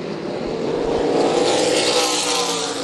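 Super late model race cars roar around New Smyrna Speedway in a dense, continuous engine din that swells slightly as the pack passes, loud and unbroken throughout.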